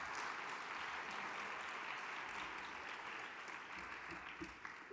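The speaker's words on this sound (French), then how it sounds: "d'abord l'animateur, Philippe Rocher, je pense que vous pouvez l'applaudir." Sustained applause from a conference audience at an annual trade-union colloquium closing session, steady and dense throughout without a break.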